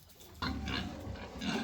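Pigs grunt and oink nearby on a small homestead, a continuous run of low snorting sounds that grows louder after a sudden onset.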